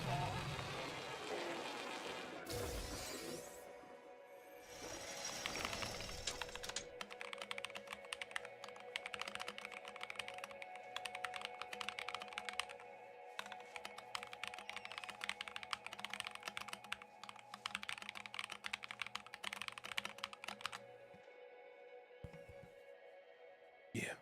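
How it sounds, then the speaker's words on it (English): Rapid, close clicking on an Alienware computer keyboard continues for a long stretch over a low, engine-like drone of game sound. "how's the keyboard sound?"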